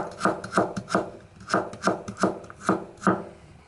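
A kitchen knife slices a small piece of ginger into thin julienne strips, about nine crisp, evenly spaced chopping strokes close up, with no talking.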